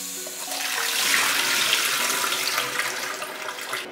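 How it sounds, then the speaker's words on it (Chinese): Salted zucchini is rinsed under a running kitchen tap, a steady close hiss of water splashing for a few seconds with no talking. "要把它洗干净，洗掉盐。"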